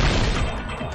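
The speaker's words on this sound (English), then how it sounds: "the girls heard the sound of the window shattering" Window shattering in a video game, a loud dense crash of breaking glass that bursts at full strength and decays slightly over a second, heard alone.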